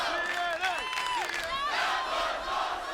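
A wrestling arena crowd roars and yells after a ladder crash through a table, sustained loud cheering with individual shouts rising above the mass of voices.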